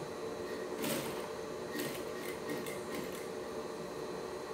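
A sewing machine stitches fabric for a toiletry bag with two dividers, a steady mechanical whir with brief bursts of faster clatter as the needle runs, close by and without talk.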